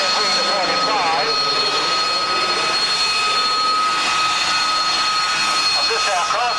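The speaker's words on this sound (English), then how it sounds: "And this aircraft, MX-6, is that flown by Lieutenant Colonel Ben May" A WWII fighter in 78th Fighter Group checkered markings flies over the 1997 Shuttleworth military airshow at Old Warden, its steady, loud engine roar carrying a whining tone beneath a commentator's voice.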